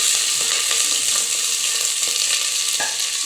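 Onions fry in hot oil already crackling with fenugreek seeds and curry leaves, a steady close sizzle broken by soft stirring scrapes and occasional light taps against the pan.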